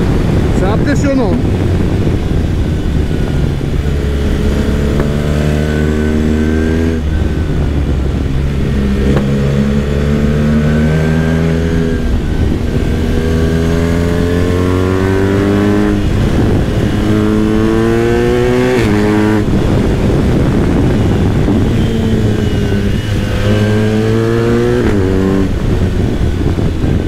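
Riding the motorcycle called the Accra: the engine howls up through repeated gear changes, each rise in pitch cut by a drop as it shifts, loud and close under constant wind buffeting.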